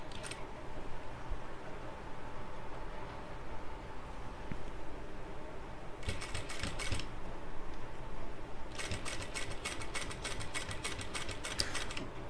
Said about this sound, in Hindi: मशीन को धीरे धीरे चलेगी बिल्कुल, सफाई से लगना चाहिए ये टाँका बिल्कुल पॉकेट का।